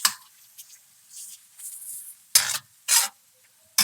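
Vegetables being stir-fried for Korean beef, short separate bursts of scraping and sizzle as a spatula tosses the pan, with quiet gaps between strokes and no voices.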